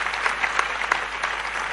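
A church congregation claps together in a continuous, fairly loud patter of hands, with a few sharper individual claps standing out near the middle.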